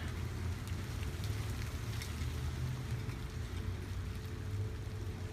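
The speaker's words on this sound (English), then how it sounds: "can you hear that rain?" Steady rain falls outside a wide-open apartment window, a dense, continuous hiss and patter with a low rumbling undertone that never lets up.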